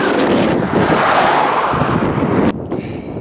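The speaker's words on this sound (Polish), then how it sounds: "Jaki piękny wiatr!" Strong wind blows across the open Patagonian pampa, battering the microphone in loud continuous gusts before easing abruptly near the end.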